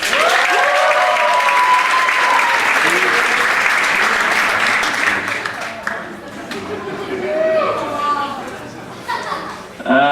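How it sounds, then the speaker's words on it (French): Applause and cheering from an audience at a local talent-show final, a loud, dense clapping burst that tapers off midway, then swells again briefly alongside scattered voices and chatter. "veuillez applaudir Wilson"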